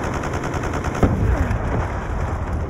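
Rapid gunfire pours on an antenna position during a Call of Duty: Black Ops 2 battle, a dense burst of shots with a sharp crack midway over constant rumbling battle noise, loud and unbroken.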